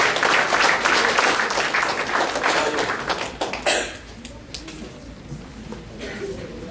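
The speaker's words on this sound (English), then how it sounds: "Dear youth leaders, please put your hands together in welcoming them" Audience applause and clapping welcoming youth leaders onto a stage at a youth leadership event, loud and dense at first, then thinning out and fading, with some talk underneath.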